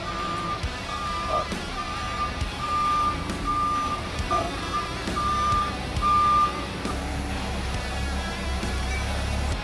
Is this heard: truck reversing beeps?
yes